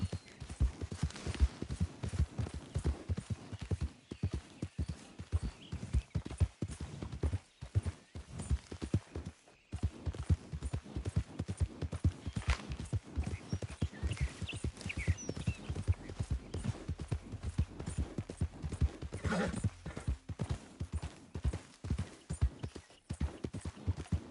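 Horse hooves pounding at a steady gallop in Red Dead Redemption 2, a dense rapid clip-clop running throughout with occasional snorts, fairly loud and close, with no talking.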